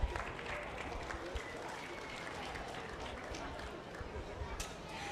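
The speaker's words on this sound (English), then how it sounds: "Let's welcome Brooke to the Sioux Center, or the Sioux County Youth Fair, with a round of applause." A crowd claps steadily for several seconds in a large indoor space at the Sioux County Youth Fair livestock show ring before a breeding sheep class, a dense even patter of applause with no talking over it.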